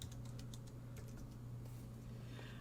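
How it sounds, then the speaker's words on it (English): Keys tapping on a computer keyboard while a font name is entered in craft design software, a quick light run of clicks at low volume over a steady background hum. "So I'm just going to type in Angela"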